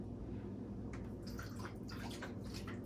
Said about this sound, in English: I'm gonna take about like half a cup of water, not too much, and just pour it under.